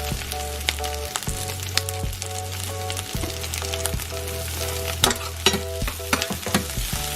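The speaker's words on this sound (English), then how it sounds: "Saute for about 2 minutes." Garlic sizzles steadily in a hot pan already cooking onions, frying hiss running continuously while a utensil stirs and scrapes in repeated close strokes, without any voices.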